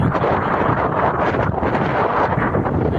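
Strong wind buffets the microphone in a constant loud rumbling roar, with no voices heard.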